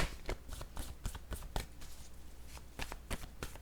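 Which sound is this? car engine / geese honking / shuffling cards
shuffling cards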